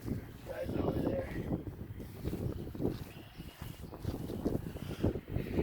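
Gusty wind buffets the microphone outdoors while a Stansport Scout two-person backpacking tent is pitched, a rough, uneven low rumble rising and falling throughout with faint handling noises.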